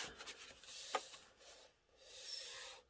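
A Fiskars rotary cutter trims the edge of a paper pocket for a fall travelers journal, giving quiet, close rasping strokes with a brief click partway through.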